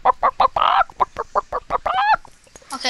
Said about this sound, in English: there's tons of chickens just right outside